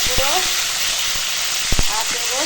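Ground spices sizzling in a little oil in a wok as the base for a homemade ash gourd chutney, a steady close hiss with a few brief knocks.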